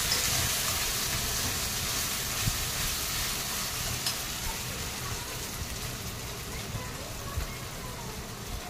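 Ginger and green chillies frying in a pan for a palak paneer curry, a steady close sizzle with faint stirring scrapes running throughout.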